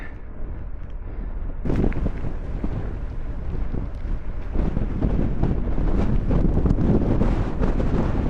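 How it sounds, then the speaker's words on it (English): A strong headwind buffets the microphone of a cyclist riding between Wenford Bridge and Padstow, a loud, continuous low roar that gusts louder partway through and stays rough to the end. "Oh, that's a strong headwind."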